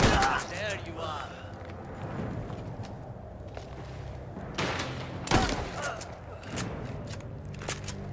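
Gunfire in the video game Mafia: The Old Country, a few sharp shotgun-like blasts among clattering game sounds, with voices talking over parts of it.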